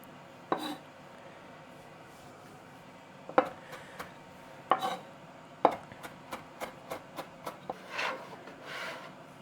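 Kitchen knife finely chopping vegetables on a cutting board for a tagine, with a few separate sharp cuts first, then a quick regular run of chops, each a crisp knock, close and alone.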